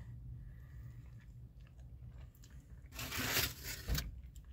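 Chewing a burrito with spicy tomatillo sauce, soft close mouth sounds under a low background hum, rising to a louder burst of crunchy biting and wet tearing toward the end.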